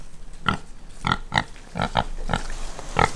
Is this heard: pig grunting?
yes